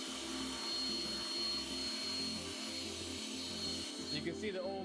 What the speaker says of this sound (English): we'll go ahead and vacuum the outside of it